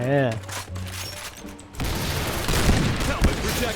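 Gunfire in the online shooter Point Blank, with dense bursts of rapid shots taking over in the second half after a stretch of voice and game sounds, loud and continuous.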